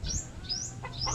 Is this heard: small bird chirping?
yes